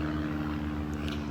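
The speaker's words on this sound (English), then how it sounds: "Sorry about the plane." A propeller airplane drones overhead in a city backyard, a steady low engine hum that stays faint and constant throughout the short moment.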